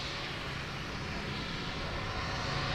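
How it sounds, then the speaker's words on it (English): A QantasLink QJet Boeing 717 airliner taxiing at Sydney Airport, heard as a steady, continuous broadband jet-engine rumble and whine that holds at an even level throughout. "we've got a beautiful QJet 717 taxiing on Charlie"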